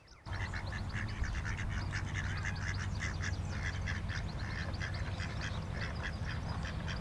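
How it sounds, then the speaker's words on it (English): Swan geese at the Martin Mere wetland reserve call steadily, a dense chorus of honking and quacking waterfowl continuing for several seconds at moderate distance. "this is the swan goose just behind me."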